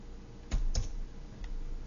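Two crisp clicks as the Alt and Enter keys are pressed on a computer keyboard, followed by a fainter third tap, close and quiet.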